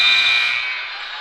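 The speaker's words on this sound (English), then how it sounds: "Power at the buzzer." A basketball arena buzzer sounds at the end of the first quarter of a high school game, one loud sustained electronic blare that slowly fades over about a second.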